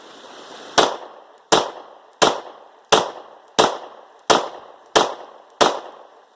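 Eight sharp pistol shots from a Glock 43 fitted with a +2 magazine extension crack out at an even pace, each ringing with a short tail, loud and close with no talking.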